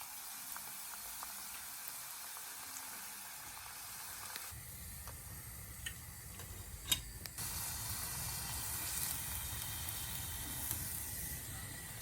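Shredded chicken coated in cornflour deep-frying in hot oil: a steady, close sizzle and hiss that grows louder and fuller about midway, with a brief sharp crackle, no voices.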